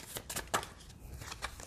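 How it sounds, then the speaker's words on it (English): A deck of cards is shuffled in quick, crisp riffling bursts, close and fairly quiet, with a few separate flutters in under two seconds. "I got to shuffle my deck first, though."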